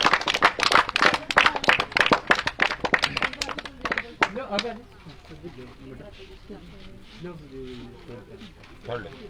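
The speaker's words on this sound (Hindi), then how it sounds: "जिनका सम्मान हो रहा है उनके सम्मान में तालियां बजाते रहे" An audience claps for honourees at an Independence Day flag-hoisting event at a primary health centre. Loud, dense clapping dominates the first four seconds, then thins out and fades under a speaking voice.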